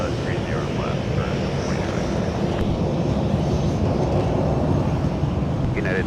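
Airplanes taxiing at Minneapolis–St. Paul airport, a steady loud engine rumble and whine filling the whole stretch, with faint radio chatter beneath.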